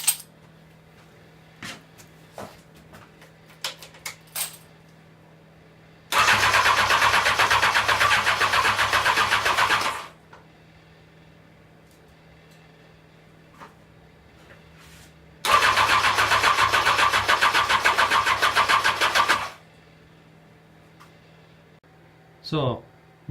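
A turbocharged Honda CBR929RR SC44 motorcycle engine on a build is cranked in two long, loud bursts of several seconds each, separated by a quiet pause, with faint clicks and handling noises between them.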